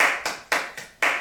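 Hand claps among a few people, several sharp bursts at uneven intervals about a quarter second apart, close and fairly loud.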